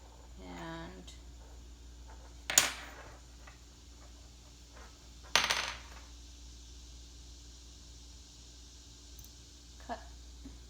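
A wire tool slicing through a clay pinch pot gives two short scraping bursts a few seconds apart, a faint tick following later, over a low steady room hum.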